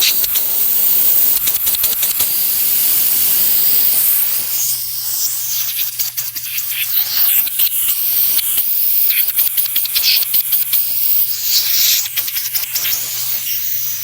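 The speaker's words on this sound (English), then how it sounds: "Now I will release some refrigerant from the system." Refrigerant gas hisses loudly and steadily as it is bled out of a fridge system, a close, continuous spray-like rush with faint clicks and brief dips in strength.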